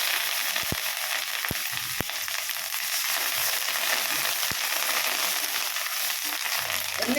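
Turmeric stirred into hot oil for mango pulihora, a loud, steady frying hiss with a few sharp ticks of a spoon against the pan.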